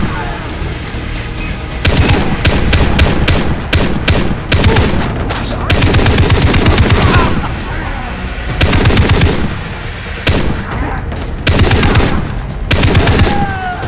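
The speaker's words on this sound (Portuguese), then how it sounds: "eles estão acertando tiro de muito longe" Automatic and single-shot gunfire from enemy soldiers in Far Cry 3, loud bursts in repeated clusters with short gaps, rattling volleys dominating throughout.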